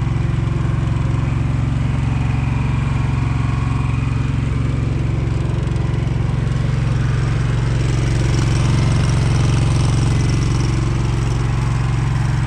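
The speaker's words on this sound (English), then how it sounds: "Boy, is that motor quiet and smooth." A Walker 31HP mower engine runs steadily and smoothly after a head gasket repair, giving a loud, even, continuous hum with no misses or sputters throughout.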